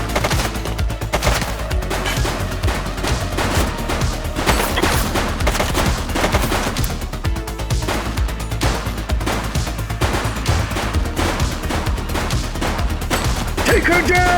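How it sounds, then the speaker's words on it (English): Dense, continuous gunfire in the police video game The Precinct, rapid overlapping shots and bursts loud throughout with bits of voice mixed in. "She's shooting!"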